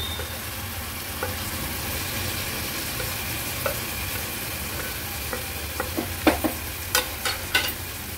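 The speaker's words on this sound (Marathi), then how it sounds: "हाय फ्लेमवर मसाला परतून झाला की आपण हा स्वच्छ धुतलेला जवळा ऍड करूया।" Masala sizzles steadily in a hot pan over a high gas flame while Agri-Koli style dried shrimp and jackfruit seed suka cooks, with sharper spatula scrapes and clicks growing louder toward the end.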